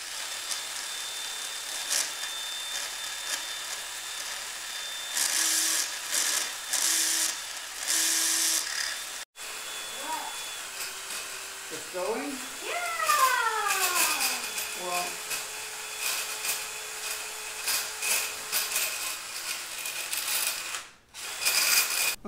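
A ball grinder mounted on a shaft is passed through foosball table tubes, giving a steady close mechanical whirring and rattling with a few rising and falling tonal sweeps and brief gaps.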